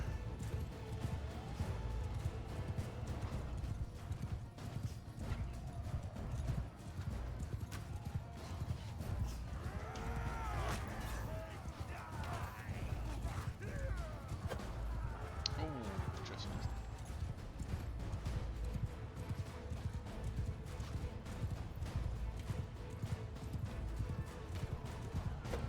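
Riderless horse galloping in the video game Mount & Blade Bannerlord, a steady stream of hoof clip-clops over a dense battle din, with a neigh or two in the middle.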